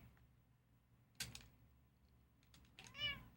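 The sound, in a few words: cat meowing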